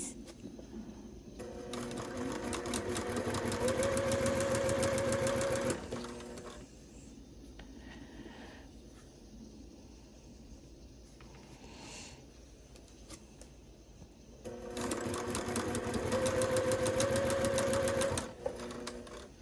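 A quilter's new sewing machine runs in two long bursts of fast, steady stitching, loud and close, with a quieter pause of faint handling noise between them.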